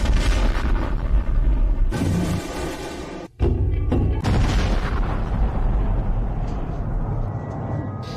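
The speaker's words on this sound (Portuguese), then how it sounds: "uma enorme explosão no centro da segunda maior cidade da Ucrânia" Huge explosion in central Kharkiv, Ukraine, captured in news footage: loud, dense booming and rumbling with a sharp break midway, then sustained heavy roaring debris noise throughout, no speech.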